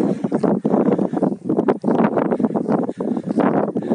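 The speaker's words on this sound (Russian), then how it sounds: "ветер сильный, конечно" Strong wind buffets the microphone on a mountain summit near Gelendzhik overlooking a reservoir, rumbling gusts swelling and dropping unevenly close to the mic.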